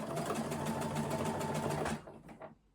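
A sewing machine runs steadily down a seam in stretch jersey knit fabric, a rapid even stitching whir for about two seconds before slowing and stopping with a few short bursts.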